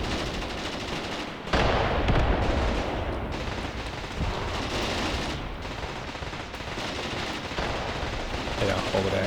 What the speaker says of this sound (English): over there, hand grenades flying everywhere